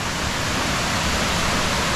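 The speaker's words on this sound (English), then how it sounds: "This is still Campbell Falls" Campbell Falls, a waterfall in Camp Creek State Park, heard as a dense, steady roar of falling water, close and loud with no pauses.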